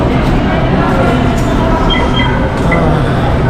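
An LRT light rail train in Manila, its loud, steady rumble and rolling noise close by and continuous, with faint voices of people around.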